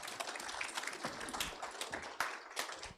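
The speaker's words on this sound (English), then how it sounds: "A round of applause for them, please, again." Scattered, fairly faint applause from a sustainable building conference audience ahead of a brief photo session: a handful of uneven, separate claps rather than a full roar.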